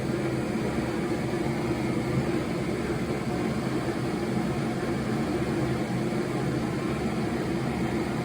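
A Fire Maple Petrel Quickboil Pro camping stove running to boil water, giving a steady, even roar of burning gas that holds constant from start to finish.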